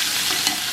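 Garlic sizzling in bacon grease in a cast iron pan, a brief close hiss with a soft stirring scrape.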